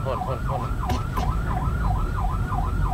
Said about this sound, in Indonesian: Ini berarti ambulan ya.